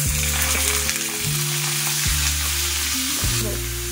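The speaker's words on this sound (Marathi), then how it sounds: "ते आपण तेलामध्ये फ्राय करणार आहोत।" Finely chopped eggplant frying in hot oil, a loud steady sizzle throughout with several stirring scrapes and clunks of a utensil against the pan.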